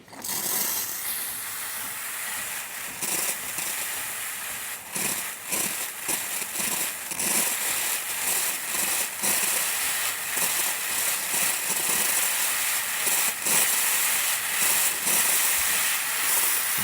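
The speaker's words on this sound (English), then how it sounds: "So let's go ahead and steam some." A steady, loud steam hiss from a Starbucks espresso machine steam wand runs throughout, with gurgling, sputtering bursts and rattling as it continues unbroken.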